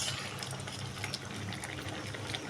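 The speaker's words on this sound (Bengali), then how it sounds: "ওয়াও, কি সুন্দর বলক উঠেছে।" Okra curry bubbling at a steady boil in a cooking pot, a continuous dense simmering hiss with soft popping bubbles, close and even throughout.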